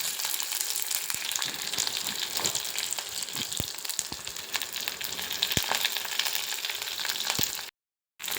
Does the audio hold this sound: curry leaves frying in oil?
yes